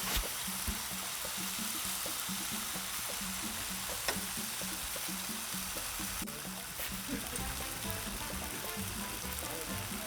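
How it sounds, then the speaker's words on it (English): Mac and cheese fries on a Blackstone griddle with a steady, even sizzle and crackle that carries on continuously, close by and fairly quiet, with no talking over it. "So the mac and cheese is sizzling."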